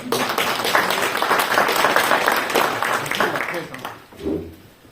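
Applause at an association general meeting, a room full of people clapping steadily at moderate volume for several seconds before it thins and fades, with a voice briefly surfacing at the end.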